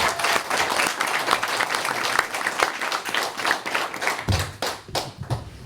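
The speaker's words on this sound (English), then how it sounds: "So let's give them a round of applause." An audience at a councilor at-large candidate forum applauds the candidates, with dense, even clapping carrying on for several seconds and then tapering into scattered individual claps and a few thumps.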